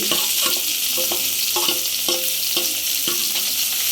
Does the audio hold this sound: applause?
no